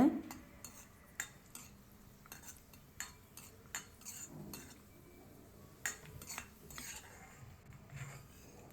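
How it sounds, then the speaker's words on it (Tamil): Raisins fried over medium heat in a kadai, with a spoon stirring and scraping in repeated quiet metallic clinks and taps, close and faint against a soft background. "அதே கடாயில் கிஸ்மிஸ் சேர்த்துக்குங்க கிஸ்மிஸ் வந்து அதையும் மிதமான சூட்டில் வருங்க நல்லா உப்பி வர்ற அளவு வருங்க"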